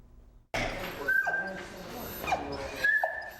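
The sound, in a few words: rescued puppy mill dogs whimpering and crying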